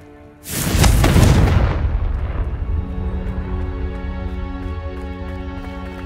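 A Confringo blasting spell in Hogwarts Legacy goes off as a single loud explosion, a sudden booming burst that rolls off into a long rumbling decay over steady game ambience.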